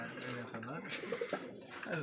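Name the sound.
Rajshahi Giribaz pigeons cooing at a pigeon farm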